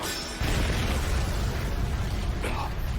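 Video game explosions burst out as a heavy, rumbling boom that begins abruptly and rolls on through the remainder, with a faint voice underneath.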